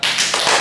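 Hand clapping in a classroom guidance session, a quick run of dense, close claps packed together in under a second, loud and bright.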